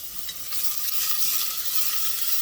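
Onion frying in a pan with olive oil and Kerrygold butter, a steady close hiss and sizzle that holds evenly throughout.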